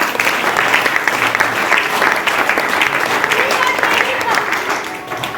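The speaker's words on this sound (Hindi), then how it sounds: "जोरदार ताली" Loud, sustained applause from a crowd at a coaching and training event fills the room, steady clapping that tapers off slightly at the end.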